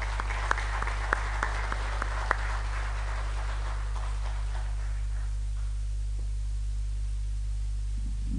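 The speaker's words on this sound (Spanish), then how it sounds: "Recibimos con un cariñoso y fuerte aplauso." Audience applause at an Asturian song contest, with distinct claps at first that blend into a broad wash of clapping, fading over several seconds against a steady electrical hum.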